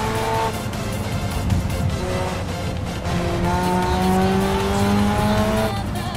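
A Mazda races along a mountain pass in Assetto Corsa, its engine revving and shifting between gears with tires squealing through corners, loud and continuous.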